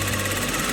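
A sewing machine stitches a seam pocket, sewing just inside the seam line with a fast, steady mechanical whir and rattle that holds even and loud from start to finish.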